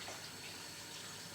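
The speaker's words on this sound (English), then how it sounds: "So, rinsing that off and just getting the water all the way to the top." Tap water runs steadily into a container as breakfast food is rinsed and the water is filled to the top, a soft, continuous faint gush heard alone.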